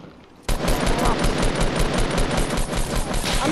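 Rapid machine-gun fire from a video game erupts suddenly and holds as a steady, loud stream of evenly spaced shots for about three seconds, with no voices over it.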